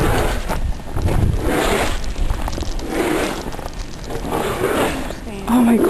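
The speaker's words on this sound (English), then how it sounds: "No, it's windy." Wind roars without pause during a snowstorm, a loud, gusting rush that buffets the microphone, with voices faintly present beneath it.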